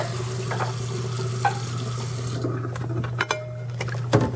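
Tap water runs steadily into a sink while hand-washed dishes are rinsed, over a constant low hum, with clinks and knocks of dishware toward the end.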